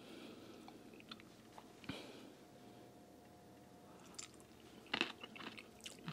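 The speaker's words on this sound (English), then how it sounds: "It's very crunchy." Someone chews crunchy food from an instant hot pot close to the mic, with faint, irregular crunches and bites and a few sharper cracks near the end.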